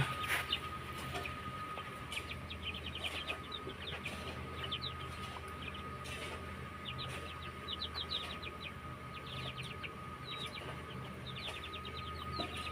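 Aseel hens and their chicks forage nearby, with steady repeated high peeping from the chicks over low clucks against a faint outdoor background. No one speaks.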